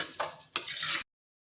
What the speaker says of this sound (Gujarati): તો હવે આપણે અહીંયા તેલ છૂટું પડે ત્યાં સુધી આપણે સાતરીશું